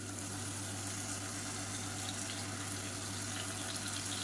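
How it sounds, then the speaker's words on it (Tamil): Water runs steadily while a mixer jar is rinsed in a home kitchen, a constant close splashing hiss with no pauses. "மிக்சியை அலசிட்டு அந்த தண்ணியை வந்து கொஞ்சமாக சேர்த்துக்கலாம்"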